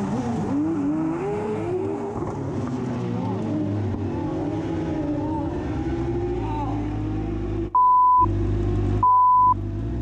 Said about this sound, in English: controls the fishtailing car and accelerates up the hill